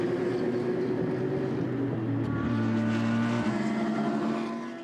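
Race cars lap the circuit during a 12-hour endurance race at Paul Ricard, engines droning loudly with shifting pitch as they pass, a steady roar without talk that fades near the end.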